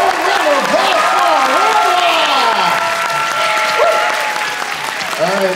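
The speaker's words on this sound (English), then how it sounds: "Let's give a warm round of applause for" Loud, sustained applause from the audience at a dance competition fills the stretch without a break, with cheers and whoops rising through the clapping.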